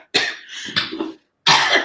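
Two loud, close coughs from someone speaking during a slide presentation, the first a long rasping fit and the second a single sharp burst after a brief silence.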